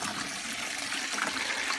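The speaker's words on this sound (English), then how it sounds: "I want y'all to see this water as it gets poured into this bucket here" Clean water pours steadily into a bucket beside a homemade well, a continuous close splashing rush with no talk over it.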